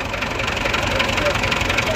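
A tractor engine idles and runs steadily nearby with a knocking, chugging drone during heavy rain in Punjab, while someone talks over it.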